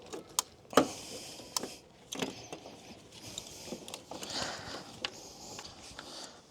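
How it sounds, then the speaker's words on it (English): Ratchet wrench tightening valve cover bolts on a Toyota 2UZ-FE 4.7L V8 engine, heard as quiet intermittent clicks and metallic taps at close range, irregularly spaced, with no talk. "I got all the valve cover bolts all snugged and tight"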